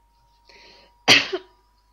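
A single close sneeze, preceded by a brief sharp inhale, then quiet.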